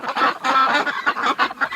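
Ducks in winter honk and quack in a rapid flurry of nasal calls, close and loud, several overlapping bursts with short gaps.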